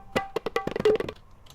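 Quick tabla fill cut from a sample, a rapid flurry of sharp drum strokes with ringing tones over about a second, quiet and trailing off into a few faint later taps.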